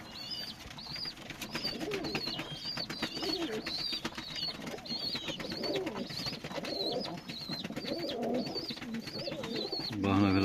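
Pigeons in a coop in the evening make repeated soft, throaty coos close by, with occasional wing flutters and faint talking in the background.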